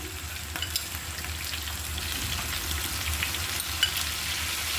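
Eggplant fries in hot oil with a continuous moderate sizzle and soft crackle, a few faint pops and light stirring clicks over the steady hiss.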